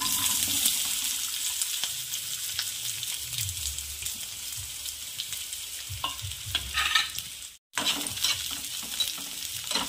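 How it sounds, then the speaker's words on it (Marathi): Chopped onions frying in oil in a pan, with a steady close sizzle, occasional stirring scrapes and a brief break near the end. "आता मी कांदे भाजून घेते।"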